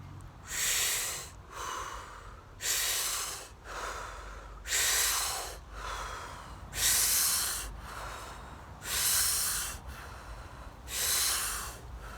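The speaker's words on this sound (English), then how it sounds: "breathing in as much air as you can, and if you feel like you could get even more in, just take that little extra bit" Deep breaths drawn in through the mouth, about six long inhales with a short pause between each, close and fairly loud, with no talking.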